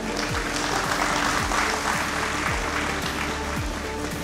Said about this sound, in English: you all deserve a big applause for yourself